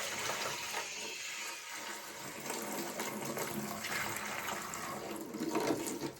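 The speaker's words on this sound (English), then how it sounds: "Why don't I help you pour some water into that big jar?" Water pours steadily into a big jar during children's play with floating toys, a continuous splashing rush lasting about six seconds and swelling slightly near the end, with no talking.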